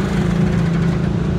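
A 2024-model Massey Ferguson 385 tractor pulls away from the assembly plant toward the showroom, its diesel engine a steady, close, loud low rumble with a constant droning hum and no speech.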